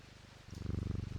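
A cat purrs in the video game Strange Antiquities, a soft rhythmic rumbling purr that swells louder halfway through and keeps a steady pulse, with no speech.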